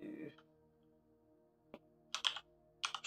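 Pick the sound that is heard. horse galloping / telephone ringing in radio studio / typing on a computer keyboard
typing on a computer keyboard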